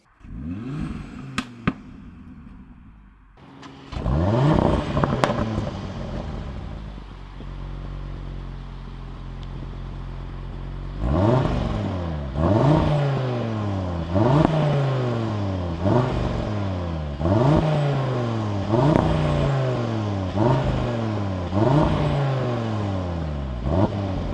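An Audi RS3's engine is started and then revved repeatedly, a loud, close series of sharp rising bursts that each drop back to idle, after an initial crank and a steady rumbling idle.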